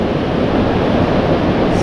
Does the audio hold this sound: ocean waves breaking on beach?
yes